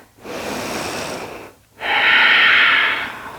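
Two long, loud breaths near the microphone during a yoga strengthening pose, a slow airy inhale followed after a short pause by a stronger hissing exhale.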